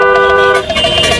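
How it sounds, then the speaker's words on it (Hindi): A car horn blasts loudly and close up in traffic, a sustained toot that shifts pitch partway through, with engine and road noise underneath. "ये जो तुम धड़ाधड़ हॉर्न बजा रहे हो"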